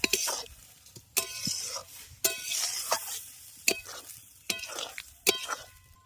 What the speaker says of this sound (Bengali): মটর আর আলুটাকে মশলার সঙ্গে খুব ভালো করে আগে কষিয়ে নিলাম